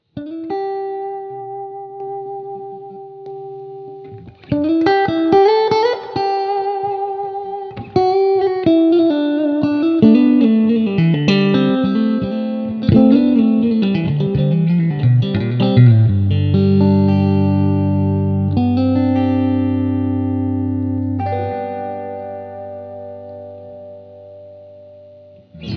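Electric guitar played through a compressor pedal set as a mild level boost for a clean tone: chiming sustained notes and chords, quiet at first, then louder and steadier with a touch of shimmer, with no talking.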